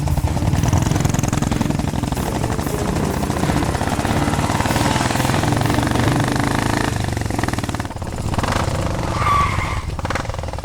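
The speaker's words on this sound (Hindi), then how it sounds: "जल्दी जल्दी चालू कर बाइक" A motorbike engine runs loudly in a film scene, revving with a rough, continuous roar before easing off as it pulls away.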